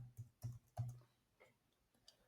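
A few soft keyboard taps, quiet and close, with three firmer clicks at the start followed by lighter scattered keystrokes and no talk.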